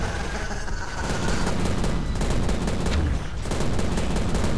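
Rockets fired in the video game Prey land as a dense barrage of loud booming blasts and crackling explosions, with a brief lull before the firing surges again.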